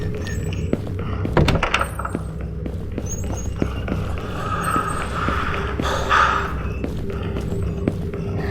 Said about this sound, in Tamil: கதவை திறந்து வச்சுப்போம்.